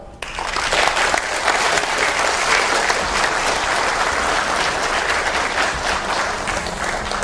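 Applause from an audience after a history lecture on the founding of the Republic of Korea, starting abruptly and continuing as a steady, full wash of clapping throughout with no voices over it.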